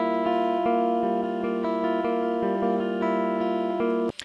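Clean electric guitar playing a steady run of picked notes with sustained harmonics, evenly paced and close, ending in a brief scrape.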